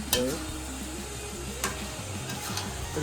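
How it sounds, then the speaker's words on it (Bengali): Chicken and potato sautéed together in a pan for chicken kosha, a soft continuous sizzle with occasional utensil clinks and scrapes, close and moderately quiet. "তো আমাদের মাংস কষানো হচ্ছে, অলমোস্ট ডান"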